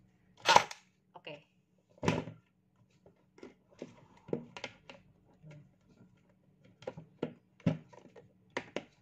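An HK416 toy gel blaster fires a few sharp, dry snaps and clicks, close and fairly quiet, spaced irregularly with handling noises, and a voice speaks briefly.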